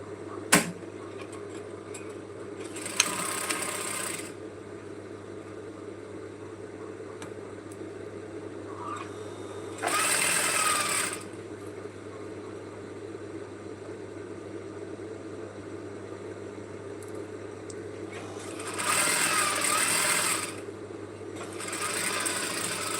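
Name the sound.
sewing machine stitching a side seam of a dress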